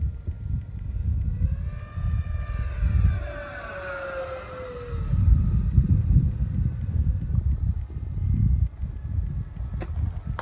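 A radio-controlled Force RC F-18 model jet flies past, its whining tone sweeping down in pitch as it goes by. Gusty wind rumbles against the microphone throughout.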